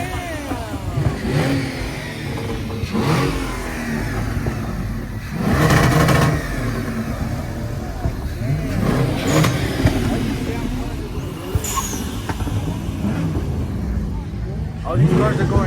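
Car engines rev repeatedly at a large car meet, loud roaring accelerations rising and falling close by, layered over crowd noise and people talking throughout.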